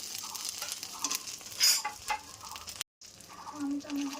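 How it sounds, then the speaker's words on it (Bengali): Fritters sizzle in hot oil in a pan, a steady, moderate frying hiss with a brief louder burst of stirring or turning and a short silent gap before the sizzle resumes. "যে আমার বড়াগুলো এপিট ওপিট হয়ে এসেছে, আমি এখন তুলে রেখে দেব।"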